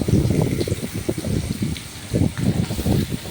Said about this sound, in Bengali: সর্ষের তেলে পুরো আলুটা ভাজবো